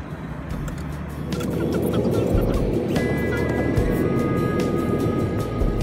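A steady engine hum rumbles throughout, growing slightly louder after the first second, with a faint whine joining in midway.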